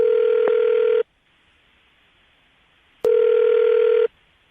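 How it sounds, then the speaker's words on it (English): A telephone line tone sounds in two steady one-second bursts separated by a two-second silence. The tone is clear and fairly loud, with no voices. "I'm about to dial the phone number and get him on the phone"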